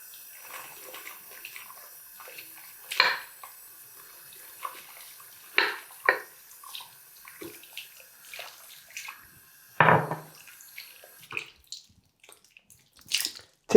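Water splashes and sloshes in irregular bursts as a shaving bowl is rinsed out, with scattered drips and louder gushes from a tap between quieter pauses, close and without talk.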